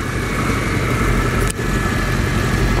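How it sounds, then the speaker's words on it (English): A van engine, just repaired, runs steadily at a loud, close idle with an even rumble and one brief dip partway through. "I got the van back running."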